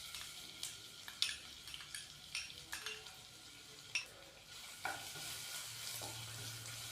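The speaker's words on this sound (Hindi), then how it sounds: "अभी मैं इसके अंदर 1 टीस्पून के करीब लहसुन का पेस्ट डालूंगा।" About a teaspoon of garlic paste in lightly heated cooking oil: a faint, steady sizzle punctuated by scattered spoon clinks and scraping stirs against the pan, close and quiet.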